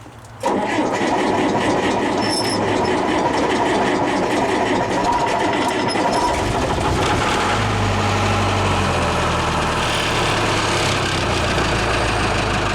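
Old diesel engine with no glow plugs, no manifold heater and no ether cold-starting, a cranking clatter that catches and settles into a loud, rough, rhythmic idle running steadily to the end.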